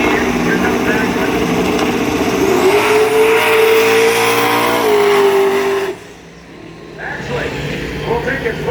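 Drag racing cars at Bradenton Motorsports Park roar loudly off the line, with a sustained engine howl rising in pitch, then cutting off abruptly before a further engine rumble resumes, and an announcer talks over it.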